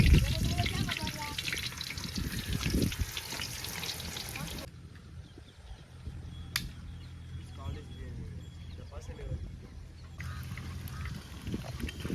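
Chicken 65 deep frying in oil makes a dense bubbling sizzle, loudest at the start and then settling into a quieter crackle, while a person talks over it.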